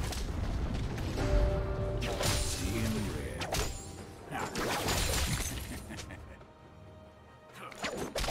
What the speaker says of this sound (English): Red team's turret is destroyed.